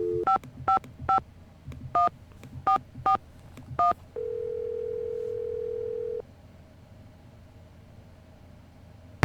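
Telephone keypad tones from the Nancy Drew video game: nine quick dual-tone beeps in an uneven rhythm, then a steady dial-like tone for about two seconds, clean and close with no talking.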